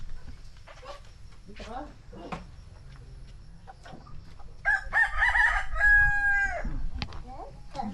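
A rooster crows once loudly and nearby amid soft clucking on a farm in Mindoro, while people talk in the background.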